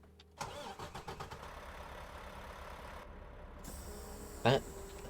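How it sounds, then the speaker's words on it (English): A Mack truck engine in American Truck Simulator cranks over with a few quick chugs, catches, and settles into a steady low idle. A brief louder burst comes near the end. "So let's start the engines."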